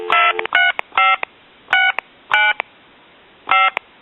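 Touch-tone telephone dialing on a repaired donut circle phone, a series of loud, clean DTMF beeps in short bursts with brief clicks and pauses between them.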